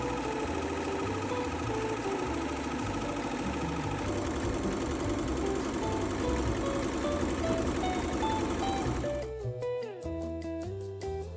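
A JUKI embroidery machine stitches a Christmas tree skirt design, a dense continuous mechanical whir with fast rhythmic needle chatter, close and steady, with a brief shift in tone near the end.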